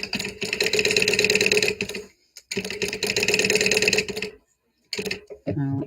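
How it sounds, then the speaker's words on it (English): A sewing machine runs in steady high-speed bursts while top stitching along an edge, with two long runs separated by brief pauses, then a short final burst; a voice speaks briefly near the end. "I'm just top stitching around this."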